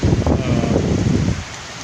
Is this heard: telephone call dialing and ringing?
no